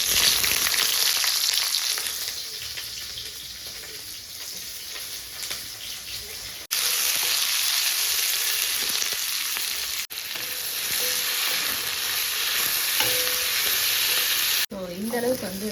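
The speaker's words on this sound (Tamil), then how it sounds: "இப்போ வதக்க போகிறோம். பெரிய வெங்காயம், தக்காளி, பச்சை மிளகா, இஞ்சி, பூண்டு." Onion, tomato, green chili, ginger and garlic are sautéed in oil, producing a loud, continuous close-up sizzle with stirring, broken by a few brief pauses and shifts in level.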